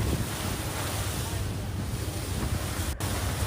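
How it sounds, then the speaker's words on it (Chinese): A speedboat crossing sea waves toward a cruise ship in the South China Sea near the Xisha Islands, a loud steady rush of wind and engine over churning water, buffeting the microphone throughout. "快艇驶向了我们的南海游轮。"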